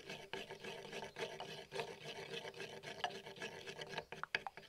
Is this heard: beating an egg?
yes